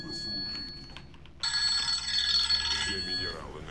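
A mobile phone rings loudly with a bright electronic ringtone that starts partway through and continues steadily, over faint background game sound and speech.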